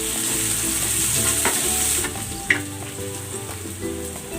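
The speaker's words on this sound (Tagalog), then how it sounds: "Using the same pan, igisa na natin itong bawang. Lagay na rin natin itong sibuyas." Garlic and onion sauté in a frying pan, a steady close sizzle with scattered spatula scrapes and one sharp clink midway, no talking over it.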